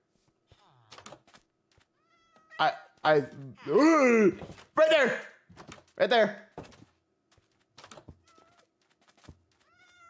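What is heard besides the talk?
black cat meowing in Minecraft video game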